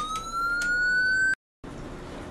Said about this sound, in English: Lights and siren.